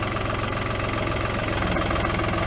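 Tractor engine running steadily during firewood cutting, a loud, continuous low rumble with a rough, knocking idle throughout and no voices.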